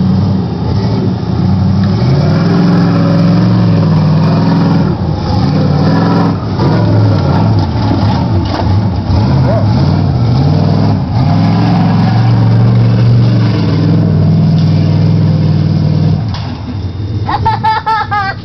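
A modified mud-bog truck engine revs and roars loudly and steadily up close, pitch rising and falling with throttle, running rough, with a brief rattle near the end.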